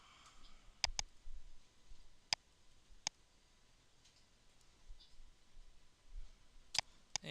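A computer mouse clicks a few times, sharp isolated clicks spread irregularly over quiet background.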